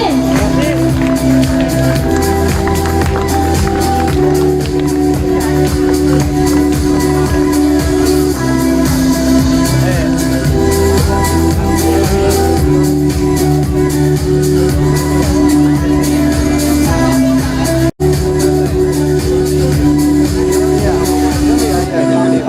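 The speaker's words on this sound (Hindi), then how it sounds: "तालियां बजती रहनी चाहिए।" A packed audience at a college farewell party applauds and cheers in a continuous, loud, dense roar that holds for about twenty seconds, with voices and a steady tonal backing mixed in.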